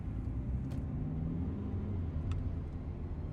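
A car drives along a road, its engine and tires making a steady low rumble that fills the cabin, with faint clicks near the middle and no voices.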